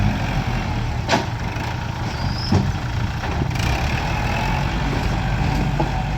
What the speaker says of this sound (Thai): เพราะว่ารถไถก็ทำงานของเขาอยู่นะครับ